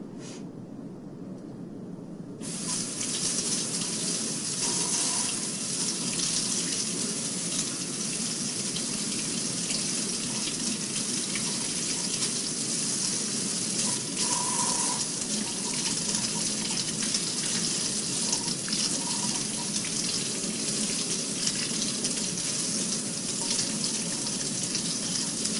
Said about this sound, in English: making sure that this is done under running water